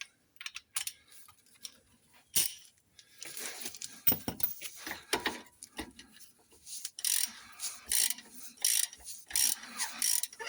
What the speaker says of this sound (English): Let's swap over to me ratchet.